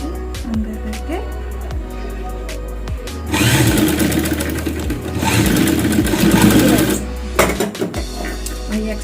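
A sewing machine stitches elastic onto a fabric mask in two bursts of fast, steady whirring, loud and close, separated by pauses filled with quiet handling clicks.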